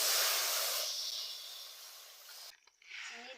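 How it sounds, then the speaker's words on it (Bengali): Boiled milk poured into a hot wok gives a broad steady hiss that slowly fades, then breaks off into quieter scraping and bubbling. "জালে রাখা আমি দুধ দিয়ে দিচ্ছি কড়ার মধ্যে"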